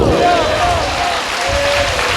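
A church congregation claps hands together in a dense, sustained burst of applause, loud and full, with a voice speaking over it.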